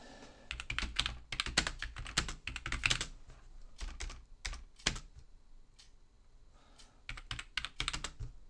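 Bursts of rapid keystrokes on a computer keyboard while writing a comment, crisp close clicks in quick runs separated by short pauses, no voices.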